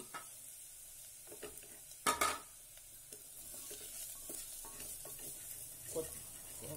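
Spice powders such as chilli, coriander, garam masala and turmeric frying in a pan for masala rice, a soft sizzle with scraping strokes and one sharp clatter of the spoon against the pan.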